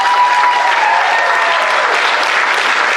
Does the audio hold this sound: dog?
no